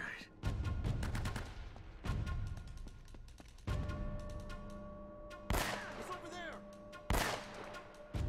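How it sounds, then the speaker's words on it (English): Gunfire in Uncharted: Drake's Fortune: about five loud, sharp shots spaced a second or two apart, each leaving a ringing, echoing tail that fades before the next. "I'm shooting him in the head!"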